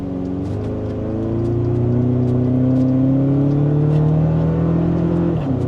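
A Toyota Tacoma fitted with a Pedal Commander throttle controller accelerates from about 10 mph, engine drone rising steadily in pitch and loudness over a few seconds before easing off, heard from inside the cab.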